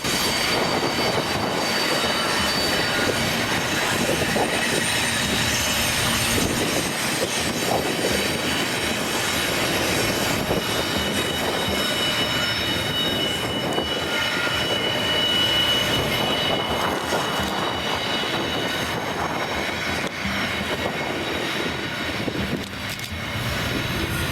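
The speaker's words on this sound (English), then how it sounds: "this westbound Union Pacific rock train" A westbound Union Pacific rock train, a freight train, rolls past close by in a continuous loud rumble, its wheels clattering and squealing steadily along the rails.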